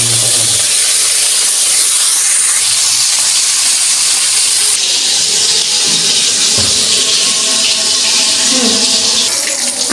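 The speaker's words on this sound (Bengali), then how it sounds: "আমার মাছটা ভাজা হয়ে গেছে" Pieces of rohu fish fry in hot oil, producing a loud, continuous hissing sizzle that holds steady for the full stretch, close up and without pause.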